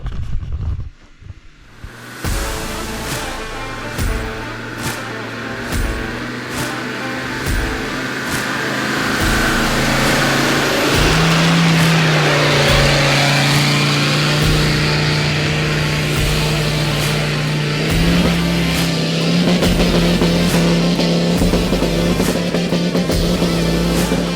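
Off-road vehicle engine revving hard against the rev limiter while climbing at Lost Lake, North Wales, with a loud sustained drone and rapid bouncing limiter stutter after a brief quieter start.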